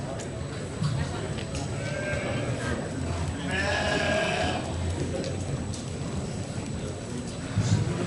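A market goat bleating at a youth livestock auction at a county fair, one short bleat in the middle amid the hall's crowd noise and loud talk.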